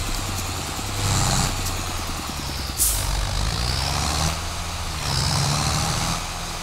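New Holland tractor engine in Farming Simulator 22 runs steadily with a low, throbbing rumble, swelling in intensity twice and letting out a brief sharp hiss near the middle, with no talking.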